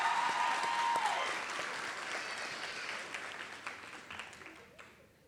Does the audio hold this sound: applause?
yes